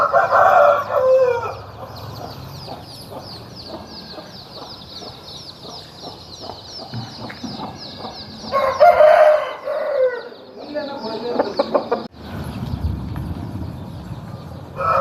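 Large Pala Abrash rooster, a Bhimavaram bird, crowing loudly twice with a long gap between the calls, with lower clucks and other farmyard noises in between.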